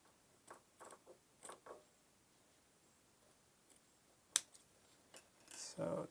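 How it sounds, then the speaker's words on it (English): Sharp scissor snips cutting elastic for a homemade fabric face mask, several short close cuts spaced irregularly with a louder rustle near the end, quiet room otherwise. "I'm going to cut the elastic"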